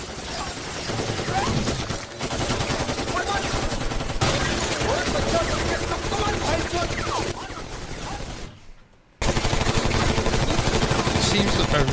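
Dense gunfire from an Indian crime film, Gangs of Wasseypur: loud, near-continuous bursts of shots with ricochets over a busy soundtrack, with a brief drop to near silence before the firing resumes at full volume.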